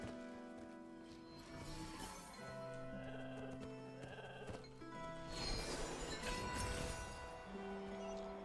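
Goats in the video game Genshin Impact bleat several times in drawn-out, wavering calls, heard over a soft musical background.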